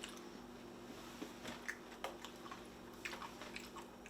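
Crunchy sweet peanut-flavored snack chewed close to the mouth, giving a string of soft irregular crunches and bites over a faint steady hum, without talk.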